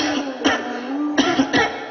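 Several short coughs from a father character in a school drama, heard up close over a steady background hum.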